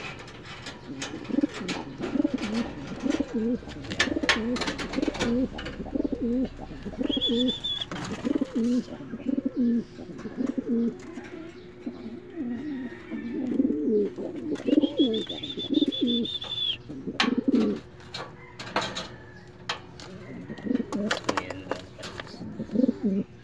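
Pigeons cooing nearby in repeated low, throaty bursts, with occasional higher calls, wing flutters and scuffs between them, and some faint human voices in the background.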